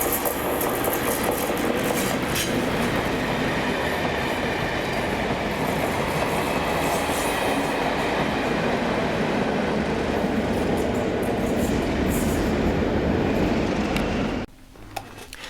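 A delayed Mossend-to-Mossend circuit freight train, 1Q76, with locomotive 610 leading 116, rumbles past close by as a loud, steady roar of wheels and engine that holds for about fourteen seconds before cutting away abruptly.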